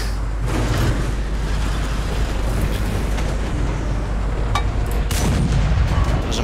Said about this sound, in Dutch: Dat was een mooi schot.